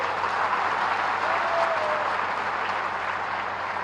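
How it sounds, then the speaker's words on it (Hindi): Sustained, dense applause from a crowd at an outdoor political rally, cheering local election candidates; the clapping stays loud and even throughout without a break. "जोरदार एक बार ताली तो बजवा दीजिए।"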